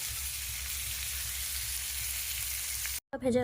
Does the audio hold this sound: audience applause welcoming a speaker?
no